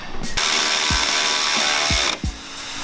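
A ratchet tightens end-link bolts on a Ford Focus RS front sway bar. It makes one close, loud, continuous buzzing run of rapid clicks, with a few sharp metallic knocks mixed in.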